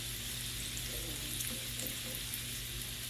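Bacon frying in a pan on medium heat, a faint, even sizzle with light crackles and a steady fan hum beneath, no talk.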